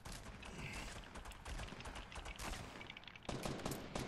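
Shotgun blasts in the video game Fortnite, a dense barrage of gunfire and clatter with several sharp reports, fairly faint in the mix.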